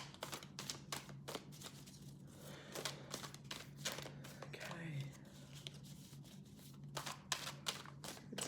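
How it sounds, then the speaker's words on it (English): Soft, close shuffling of tarot cards during a personal reading, a quick series of light papery riffles and taps at low volume with a quiet voice murmuring alongside. "give it a little bit of a shuffle and see what comes up"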